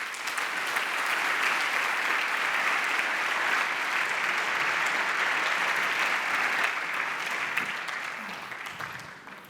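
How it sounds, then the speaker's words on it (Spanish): A conference audience at a Basque rail industry event claps steadily for nearly ten seconds, a full, even wash of applause that tapers off at the end. "Un aplauso para los dos."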